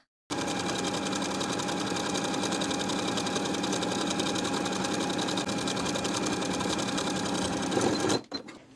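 Close sewing machine edge stitching around a dress hem, running in one long even burst at steady speed before stopping abruptly.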